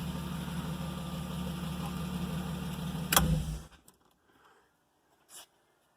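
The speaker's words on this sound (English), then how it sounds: "My hope is that the valve train noise will quiet down a little bit once I get some time on it." A BMW 325is engine with valve train noise idles steadily and loudly up close, then shuts off about three seconds in, leaving near silence broken by a faint late knock.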